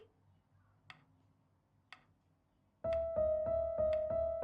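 A metronome ticks steadily in the video game Before Your Eyes, first as a few faint, sparse clicks, then as sharp, regular ticks riding over a sustained musical tone that comes in loudly.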